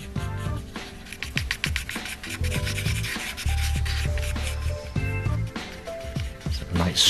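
Charcoal scrapes in quick repeated strokes across a rough, scratchy drawing surface, close and gritty, while someone talks throughout.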